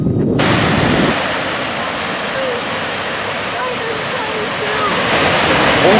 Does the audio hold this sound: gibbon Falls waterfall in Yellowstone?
yes